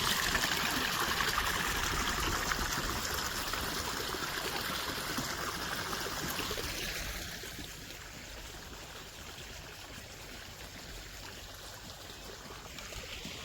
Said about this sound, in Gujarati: અને હવે કર્યું છે આ બાજુ શરૂ પાણી. જો અહીંયા નીકળે છે પાણી.